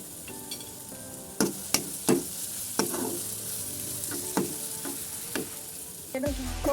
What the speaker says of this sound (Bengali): মশলাগুলোকে একটু কষে নেব